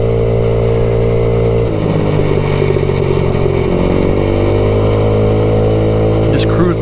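A 2021 MADDOG Generation V 150cc scooter engine drones steadily at cruising speed near 40 on a rough road, loud and close with wind rush and some clatter, someone speaking over it.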